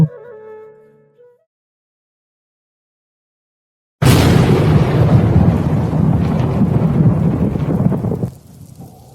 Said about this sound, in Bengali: হঠাৎ করে তুফান এসেছে ভাই